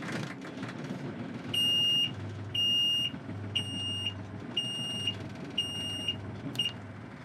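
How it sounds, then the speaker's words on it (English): An electronic alarm on a sailboat beeps in a steady rhythm, six high-pitched pulses about once a second over a low engine hum. "Don't know what's causing the alarm. Every now and again it goes off."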